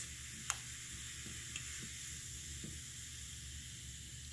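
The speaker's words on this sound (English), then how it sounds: "and it fizzes" A teaspoon of fizzy powder stirred into a drink gives a steady, faint hiss of bubbles throughout, with a few soft clinks of the spoon against the glass; no voices.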